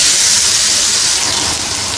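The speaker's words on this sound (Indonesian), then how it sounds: "Kemudian tumis bawang bombay dan bawang putih." Onion and garlic sizzle in margarine in a hot pan, giving a dense, steady hiss that stays loud and close for about two seconds with no talking.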